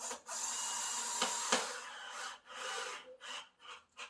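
A small handheld drill drives a screw into a plastic two-bin recycling unit, giving a gritty whirring grind in uneven bursts with short pauses and a couple of sharp clicks, close to the microphone.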